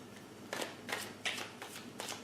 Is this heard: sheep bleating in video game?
no